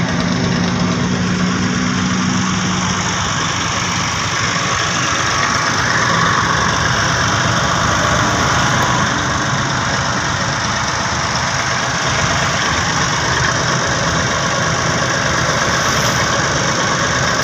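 An Ursus 2812 tractor engine idles steadily at close range, a constant rough mechanical drone with no pauses and no talk.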